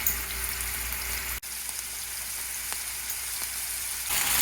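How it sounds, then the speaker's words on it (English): Spiced ground buffalo patties fry in ghee in a pan, giving a steady close sizzle with small pops and one brief break in the sound. "I made the spiced ground buffalo into little patties, and I'm cooking them in the ghee."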